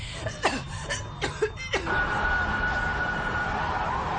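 A few short whooping fire engine siren bursts sound, then a steady high-pitched siren tone holds for several seconds over road noise.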